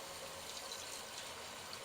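A brief, steady rush of water poured from a glass into a pot of chicken gizzards and liver, close and continuous, with no talking.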